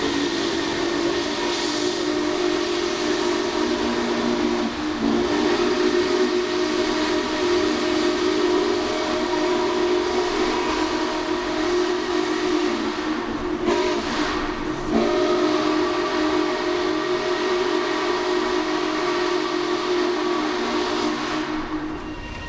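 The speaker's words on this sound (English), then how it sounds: "For the morning run-bys, 611 pulled a short freight consist with a combine car on the rear of the train" Norfolk and Western 611 steam locomotive hauls a short freight consist with a combine car, its whistle sounding long, sustained chime tones over a continuous loud rumble of the moving train, with no voices.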